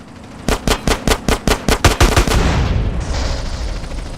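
Gunfire in GTA San Andreas, a rapid burst of about ten loud automatic shots in even rhythm, then a rumbling boom and a fading roar, close and dominant with no talk.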